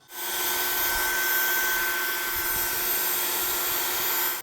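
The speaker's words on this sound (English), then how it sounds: "And we have Vacuum." Vacuum cleaner from the Notonik V2 Vacuum preset: a steady, loud, continuous motor whine and broadband airy roar with a fixed tonal hum, held unbroken for about four seconds after a quick start.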